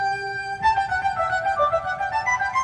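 Synthesized flute lines from an 8-track tape recording, sustained tones entering over a string-section and harpsichord texture, playing a slow melody with steady loudness.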